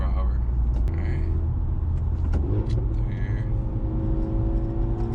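Car engine pulling hard in third gear from 40 mph after a flex fuel kit install, a loud, steady rising drone heard from inside the cabin, with a brief spoken word over it.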